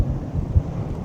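Low, rumbling wind buffets the microphone continuously at the top of the triple helix tower in Allermöhe, Hamburg, with bursts of heavier gusting close up.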